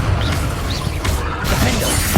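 A Confringo spell blast in Hogwarts Legacy, a crackling, shattering burst with a second flare about a second later, set against a steady, dense bed of game noise.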